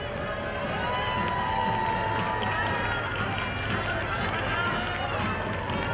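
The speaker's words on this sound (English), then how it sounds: "And the crowd goes wild for Betty." A crowd cheers at a small-town 4th of July parade as a majorette passes, a loud, steady wash of shouting and cheering with voices mixed in, close and continuous.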